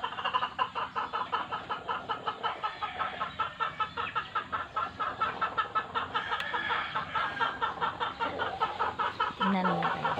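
Pet chickens at a home yard cluck continuously in a busy, overlapping chorus, close and fairly loud, with steady rhythmic calls throughout.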